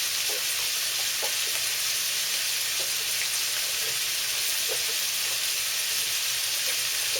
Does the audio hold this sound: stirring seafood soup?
yes